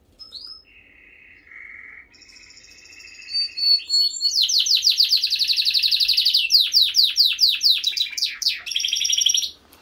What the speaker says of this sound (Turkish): Gloster çok tok sesli bir hayvan